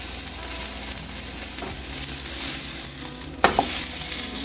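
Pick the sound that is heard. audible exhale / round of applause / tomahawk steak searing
tomahawk steak searing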